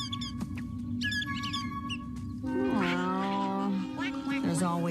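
A cat meows several times, drawn-out and wavering, over a busy background of music and chirping, fairly loud and near.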